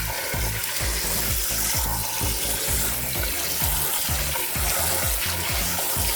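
Fresh water poured into a chicken brine of sugar, salt and apple cider vinegar, a steady loud splashing stream running the whole time with no talk.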